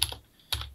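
Keystrokes on a computer keyboard, including a press of the space bar: two short clusters of clicks separated by a brief pause, close and clear, with no voices.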